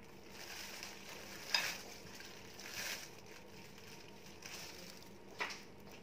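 Boiled potato and egg frying in a pan, a faint steady sizzle with a few soft scraping stirs at intervals and no talking.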